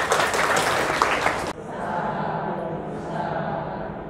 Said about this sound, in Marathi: पुनश्च आपण टाळ्या वाजून त्यांचे स्वागत करू.